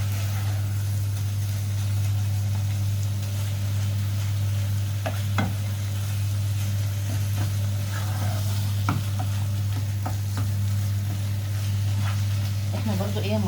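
Minced meat sizzles steadily in a hot pan, broken by scattered scraping clicks as a utensil stirs and breaks it apart, close and fairly quiet.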